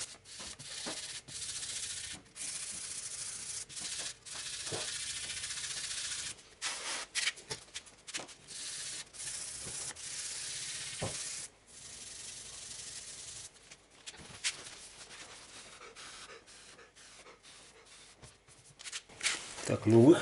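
A surface is polished by hand, with repeated scratchy rubbing strokes in uneven bursts, close and moderately loud, over about twenty seconds, with someone speaking quietly at times.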